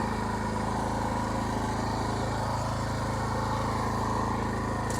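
A rented 2020 Honda rototiller's small engine runs nearby at a steady, rumbling drone with an even, throbbing pulse, heard alone without talk.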